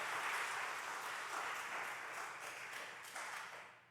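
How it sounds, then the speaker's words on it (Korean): A church congregation at a Sunday afternoon service claps in thanks, a fairly quiet, steady wash of many hands sustained for several seconds without a break. "우리 권사님들 감사 박수 한번 합시다."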